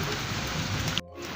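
Steady, close rain with a dense hiss of drops on a surface that runs evenly, then cuts off abruptly near the end. No voices.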